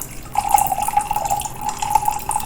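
Ginger-peach turmeric tea pours in a steady, thin stream into a cocktail shaker, a continuous close trickle lasting a couple of seconds with no talking.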